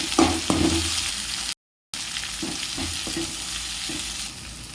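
Tomatoes sautéing in a pan for chicken gravy: a steady frying sizzle with occasional stirring clinks, with a brief dropout partway through.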